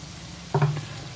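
Spice paste for a small-fish curry hisses in a hot pan as a little water is added, a brief loud sizzle burst against a low steady background.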